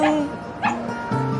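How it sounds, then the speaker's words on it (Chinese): A small native mongrel puppy lets out a quick run of high, whining yips and whimpers, close and clear, in three short bursts. "送你一只小土狗。"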